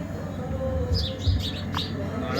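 A sparrow chirps in a few short, high tweets over a steady low background hum.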